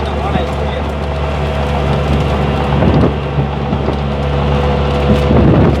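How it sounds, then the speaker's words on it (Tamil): Strong wind blusters at an outdoor spot near an airport. The roar is loud and continuous, with gusty swells, and someone talks over it. "சரியான காற்று அடிக்குது பார்ப்போம் வா"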